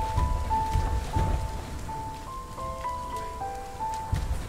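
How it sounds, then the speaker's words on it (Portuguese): Steady patter of rain in the video game RiME, a soft continuous hiss lying under sustained melodic music tones, with no voice. "ó, nessa chuva."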